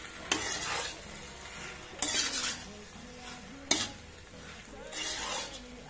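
Macaroni pasta, Indian style, stirred and fried in a pan, with a spoon scraping through it in three bursts over a steady soft sizzle, close and fairly loud.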